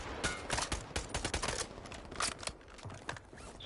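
Dense, rattling incoming gunfire in Modern Warfare 3, a fast irregular crackle of many overlapping shots that keeps going without pause, moderately loud and with no voices over it.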